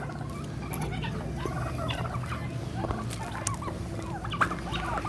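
A flock of turkeys on a farm gobbles continuously, overlapping warbling calls over a steady background hum, moderately near.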